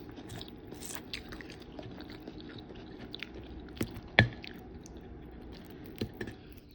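Quiet close-up chewing of Chitti muthyalu pulao mixed with chicken curry, soft wet mouth sounds and small crunches with a couple of sharper bites, no talking.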